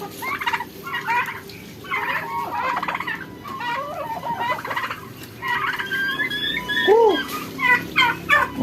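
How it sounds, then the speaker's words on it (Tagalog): Chickens clucking close by while eating, in short busy bursts, with soft background noise and one higher call rising above the rest. "pinakain ko lang sa ating mga alagang manok."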